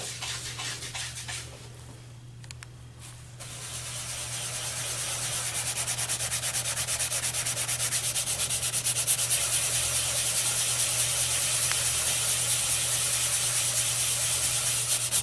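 Steady rubbing of a hard tile or porcelain surface with TEMP tile, enamel, metal and porcelain cleaner, a continuous scrubbing friction close by that starts softly and grows louder and even, with no talk.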